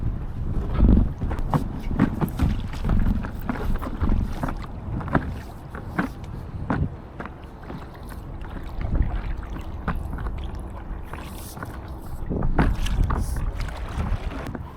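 An inflatable stand-up paddle board is paddled on open water, with splashy paddle strokes and water sloshing recurring irregularly against steady wind noise on the microphone.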